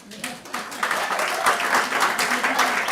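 Audience at an awards ceremony applauds, a sustained patter of many hands clapping that swells after a quieter start, with voices audible through it.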